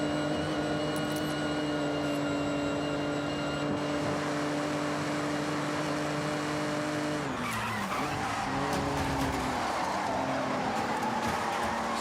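A race car engine in the video game Forza Horizon drones at steady high revs, then dips and shifts pitch mid-clip as tires squeal through a turn.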